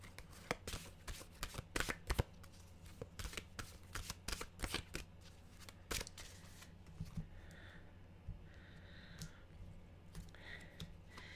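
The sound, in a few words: shuffling mystical wisdom mantra cards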